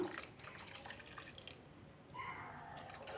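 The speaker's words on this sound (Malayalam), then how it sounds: "ഇനി ആവശ്യത്തിന് വെള്ളവും കൂടെ നമുക്ക് ചേർത്ത് കൊടുക്കാം" Water being poured into a pot of cowpea masala curry: a steady close splashing trickle that keeps running, dips briefly in the middle and then resumes a little louder.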